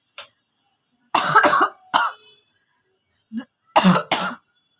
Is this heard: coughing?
yes